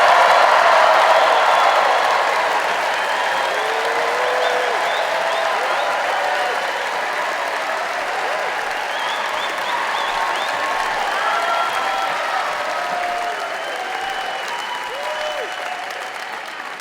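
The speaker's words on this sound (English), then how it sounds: "let's hear it for our first storyteller tonight, JeffZorn!" Steady, loud audience applause for a storyteller at a live storytelling night, a dense wash of clapping that holds for about seventeen seconds with a few cheers mixed in, tapering only slightly toward the end.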